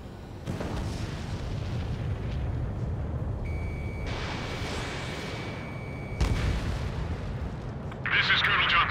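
Rocket explosions in the combat flight game Ace Combat 7, during a mission with an F-22 Raptor at a space elevator: loud booming blasts over a steady roar of jet noise, with sharp bursts near the start, middle and end and a brief warning tone.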